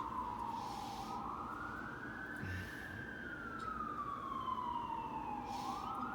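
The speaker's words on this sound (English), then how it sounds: "you spend half your life listening to sirens going off" A wailing siren in Vancouver sweeps slowly up and down in pitch, loud and steady, with road noise rumbling underneath and no voices.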